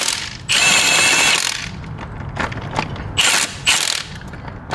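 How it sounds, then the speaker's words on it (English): A large Milwaukee impact wrench removes dual-mass flywheel bolts during a clutch job on a BMW e39 540i. Two loud, close hammering bursts, each about a second long, alternate with lighter mechanical clatter. "you're definitely gonna need an impact, because if you're just using a ratchet, you're just gonna spin the engine"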